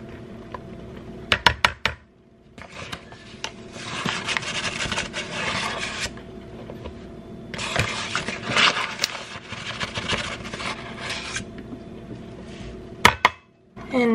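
A fork scrapes and clinks against a bowl while stirring flour into a homemade batter, with two long stretches of raspy, rhythmic mixing broken by sharp taps on the bowl's rim.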